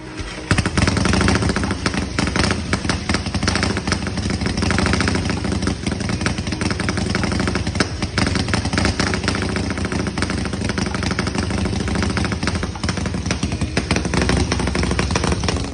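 A rare, futuristic German Neander P3 motorcycle engine runs steadily, a loud, dense mechanical clatter with a constant idle-like throb throughout and no talking.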